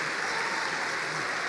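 A church congregation applauding during a celebration service, dense steady clapping filling the room at full volume with no pause.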